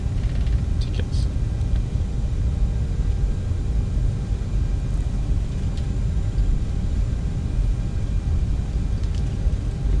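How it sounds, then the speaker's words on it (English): A JetBlue jet airliner takes off at an airport, heard as a steady, loud broadband roar and low rumble that holds without a break, with faint speech-like noise underneath. "With the JetBlue's taking off."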